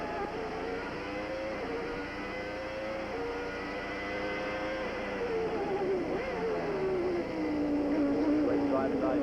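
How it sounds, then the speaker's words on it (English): Onboard a Renault-powered Formula One car on the rough Phoenix street circuit at the 1990 US Grand Prix, a high-pitched V10 wails and shifts through revs, rising and falling, with commentary talking over it. "Let's listen to the sound of this Renault engine as Thierry Boutsen takes us around."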